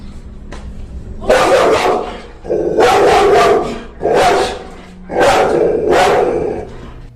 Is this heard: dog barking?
yes